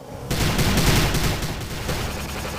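Dense bursts of gunfire from the video game Prey, a rapid fusillade of loud shots that rolls on continuously with no talking.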